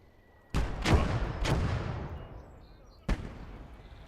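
Mortar fire in the World War II game Gates of Hell, Ostfront: three sharp, heavy booming blasts, two close together and a third after a pause, each followed by a rumbling decay.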